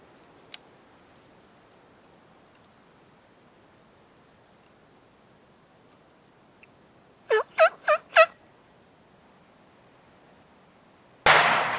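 A quiet South Texas brush landscape during a spring wild turkey hunt: a gobbler gives four quick gobbles, then a single loud, sharp gunshot blasts near the end.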